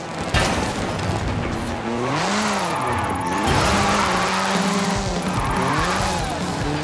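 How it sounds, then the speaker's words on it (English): Hoonigan Gymkhana 10 Ford Focus RS RX with a 2-litre turbocharged engine and all-wheel drive, in Forza Horizon 5, revs hard with rising and falling engine pitch, tire squeal and skidding, loud and continuous, with faint voices underneath. "This is Mr. Kenneth Block's Hoonigan Gymkhana 10 Ford Focus RS RX. 2-litre, turbocharged, front-mounted engine and all-wheel drive."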